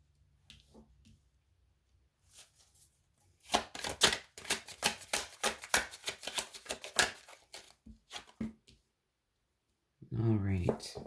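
Tarot cards are shuffled by hand in a rapid series of crisp, close riffling clicks that run for several seconds, with a voice starting just afterward.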